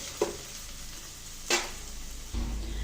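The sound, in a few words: frying cumin and curry leaves in ghee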